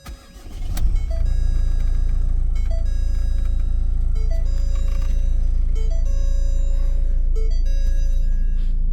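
A Ford Mondeo Turnier estate car engine with 236,000 km on it cranks and catches, then settles into a steady, even idle that runs for several seconds with no one speaking.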